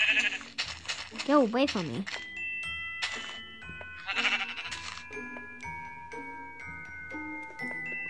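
Sheep bleating in a blocky survival video game, a wavering bleat standing out near the start, with someone talking over it and chiming game tones following.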